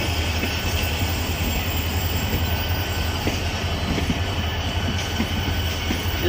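A train rolls into Jhimpir railway station with a loud, continuous rumble and faint clickety-clack of wheels on rail joints, steady throughout.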